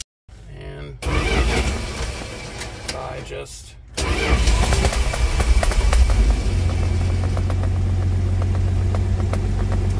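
A 1983 Dodge D150 pickup engine cranks and catches after a short pause, then settles into a loud, steady, rough idle, while a person speaks briefly over the start.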